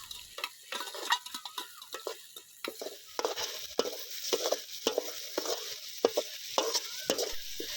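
Onion, tomato and ginger-garlic paste sauté in a pan for a spicy Chettinad chicken gravy, with a steady sizzle under repeated scraping and clinking of a spoon stirring against the metal pan, fairly close.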